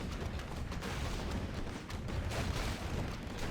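Mortar team fire in Warcraft III during a Human player's big push: dense, continuous booming shots and impacts layered into steady battle noise, loud and close with no clear gaps across the few seconds.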